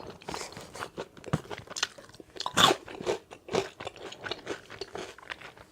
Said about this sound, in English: I'm just gonna eat my food, crunch my salad, and log out